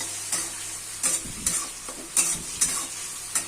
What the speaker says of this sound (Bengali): আদা পেঁয়াজ বাটাটা দিয়ে ভালো করে কষিয়ে নিতে হবে।